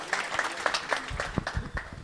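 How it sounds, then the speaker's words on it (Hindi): Crowd claps to welcome Sunil Dhaka at a political gathering in Haryana; irregular, loose hand claps grow fuller and heavier partway through, with scattered individual strikes standing out. "एक बार जोरदार तालियों से अभिनंदन और स्वागत।"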